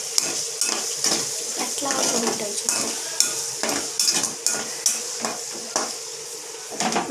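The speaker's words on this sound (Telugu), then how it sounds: "మంచిగా ఉడకబెట్టి నూనె పోసి వేపుతున్నాను." Boiled shrimp frying in oil in a pan, with a steady sizzle under repeated clinks of a spoon stirring against the metal, close up, and a brief spoken word.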